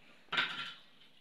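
A cooking pot is set down on a turned-off stove burner in a home kitchen, giving a single short metallic clank that fades quickly in a quiet room.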